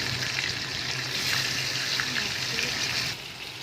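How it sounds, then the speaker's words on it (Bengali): Pomfret fish rubbed with salt and turmeric fry in oil in a kadai, giving a soft, continuous hiss of sizzling that holds steady and fairly quiet before easing slightly at the end. "মাছগুলো ভাজা করছি।"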